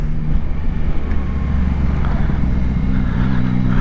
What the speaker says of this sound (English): And that engine sounds fantastic.